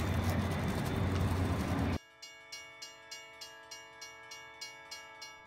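A train rumbles, then a steady chime or horn tone sounds with a regular beat of clicks as the train pulls away from Cheongnyangni Station in Seoul.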